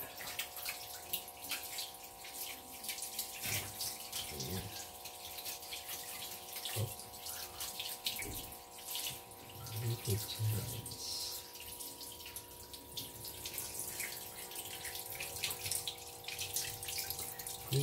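Water runs and splashes steadily during a cold-water bath, a continuous pouring wash with scattered drips and knocks, and faint voices present in the background.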